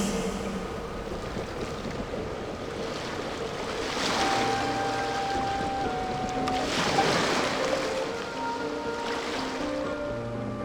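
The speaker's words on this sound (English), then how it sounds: "Go to where you can hear the sound of the waves" Ocean waves wash steadily in Genshin Impact, a broad continuous surf with gentle swells building around the middle, accompanied by soft game music tones and light wind.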